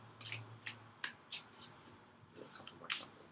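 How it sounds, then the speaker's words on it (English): Soft rapid bursts of tarot cards riffling and sliding, about eight quick brushy swishes close by, fairly quiet with short pauses between. "a couple more shuffles."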